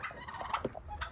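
A turkey from a backyard flock gobbles in a short, rapid burst close by, faint against outdoor background noise with no talking.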